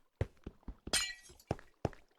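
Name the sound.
glass block breaking in Minecraft video game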